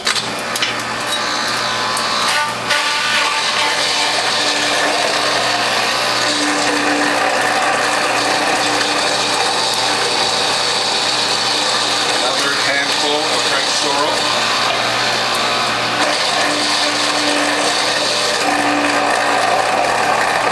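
A juicer with a front-loading feed tube pressing carrots, beets and French sorrel, giving a continuous grinding, ratcheting mechanical churn with a low steady hum throughout, close and fairly loud.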